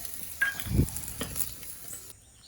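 Vegetables such as broad bean seeds and cauliflower sizzle and frying in a pan for a curry, with a spoon stirring through them. Soft steady crackle, with a brief scraping stir in the middle, close and alone.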